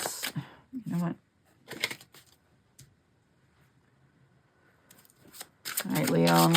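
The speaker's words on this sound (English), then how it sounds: "I'm going to shuffle" Tarot cards being shuffled by hand in short riffling bursts separated by quiet pauses, with a longer, louder shuffle at the end, close and clear.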